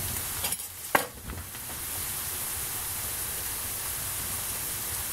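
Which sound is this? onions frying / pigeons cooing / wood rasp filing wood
onions frying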